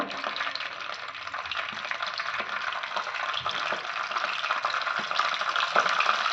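Close, steady crackling sizzle of mustard seeds popping in hot oil, with occasional sharper pops and no talking.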